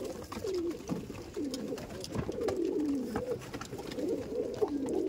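Tournament-flying pigeons of old bloodlines coo in a loft in Madhyamgram, a close, steady chorus of low rolling coos repeating throughout with no talking.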